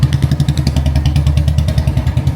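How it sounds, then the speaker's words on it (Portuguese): A motorcycle passing close through a narrow street in India, its engine thumping in a fast, regular pulse that stays loud and near throughout. "O tamanho da moto que tá passando nessa ruazinha."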